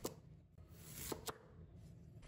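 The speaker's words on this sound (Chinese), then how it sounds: "把萝卜去头去尾，再切成掌段。" Kitchen knife chopping a winter radish into sections on a cutting board, three crisp thunks spaced apart, close but quiet, with no talking.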